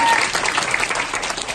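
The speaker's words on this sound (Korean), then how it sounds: "다시 한번 큰 박수로 그룹 미팅" Applause from the crowd opening a company group meeting, a loud, continuous burst of many hands clapping filling the short moment.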